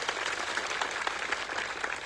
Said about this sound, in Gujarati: સાથે સાથે આપણી અરવલ્લી બચાવોની આ લડતને દેશ અને દુનિયા સુધી લઈ જવા માટે પોતાની ટીમ સાથે ઉપસ્થિત થયેલા મીડિયા મિત્રો માટે એકવાર જોરદાર તાળીઓ પાડી લો